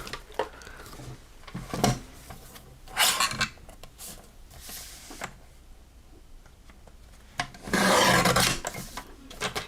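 Paper is trimmed off a handmade card in short scraping, rasping bursts, a few separate cuts with quiet pauses between them, close and moderately loud.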